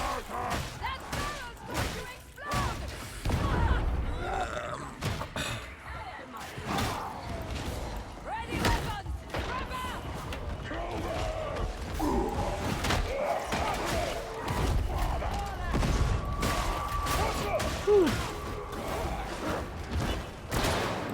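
A big revolver in Darktide fires grapeshot and explosive rounds, heavy booming shots and thuds repeating irregularly throughout, mixed with game noise while someone talks over them.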